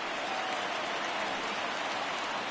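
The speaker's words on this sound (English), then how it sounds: "The rain coming down as it is, we are in for a long delay" Heavy rain pours down steadily during a baseball game in a PS4 video game broadcast, a dense, even hiss with no breaks and no voices over it.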